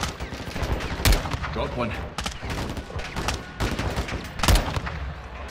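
Gunfire in Call of Duty Modern Warfare II: rapid volleys of rifle shots rattle throughout, with two heavy booming blasts standing out, while a soldier calls out over the shooting.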